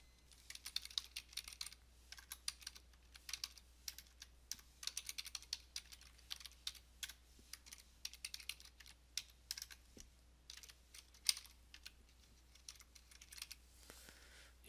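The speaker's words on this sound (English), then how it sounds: "I'm going to type in my address real quick." Quick bursts of light clicking as an address is typed on a computer keyboard, close and soft, with short pauses between runs of keystrokes.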